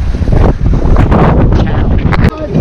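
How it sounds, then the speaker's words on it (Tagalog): Strong wind buffeting the microphone at an outdoor fishing spot, loud low rumbling gusts with sharp bursts, broken by faint voices nearby. "Update ko kayo kasi talaga mahangin."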